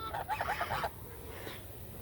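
A young gosling, hatched in an incubator on a farm, gives a short run of nasal honks up close, then falls quiet against faint background noise.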